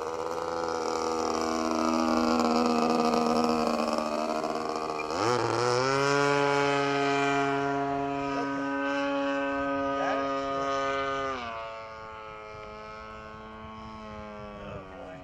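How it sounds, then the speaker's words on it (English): A Piper Cub light airplane flies past with a loud, steady propeller drone whose pitch drops and shifts as it passes overhead. The engine note then eases and fades somewhat toward the end. "I'm not landing, I'm just giving Marty a show."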